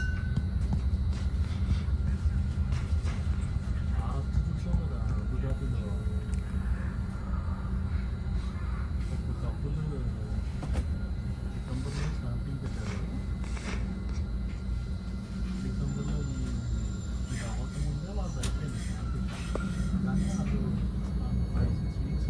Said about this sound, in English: Here we are pulling into Redwood City Station.